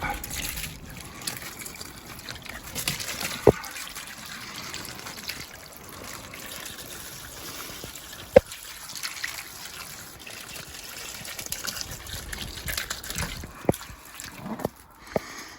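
Water trickles and splashes steadily as plant containers are refilled from a full garden water butt, a continuous soft pouring sound outdoors with a few sharp clunks.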